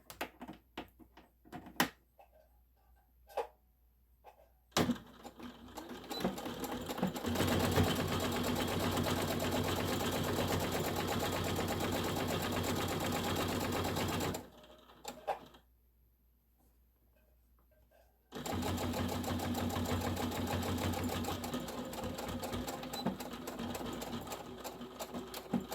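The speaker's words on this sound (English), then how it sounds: "just put it back in the machine and you're going to sew the sides up" Sewing machine stitching up the sides of a snap pouch, running in two long steady bursts of even, continuous whirring separated by a short pause, with a few quiet handling clicks at the start.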